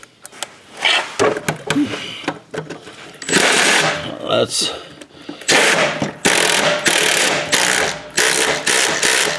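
Wrench ratcheting as a bolt is snugged on a Cub Cadet LTX 1050 riding mower spindle, close clicking bursts with clanks between, while someone talks throughout.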